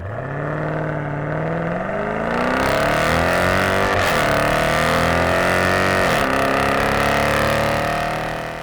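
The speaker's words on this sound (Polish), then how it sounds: "Ten wydech robi, ja uważam, największą robotę w tym samochodzie." Dodge Durango exhaust revving loudly and steadily, the engine note climbing and holding as it is blipped up, with no talk over it.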